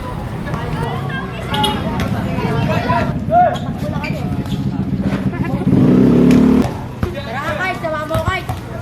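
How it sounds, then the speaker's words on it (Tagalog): Motorcycles and cars pass along a busy street in Lower Bicutan, Taguig City, where people play basketball on the road. Engines rumble and rev near and far, under steady talk and crowd chatter, with one loud surge midway. "dumadaan ang mga motorsiklo ang mga sasakyan"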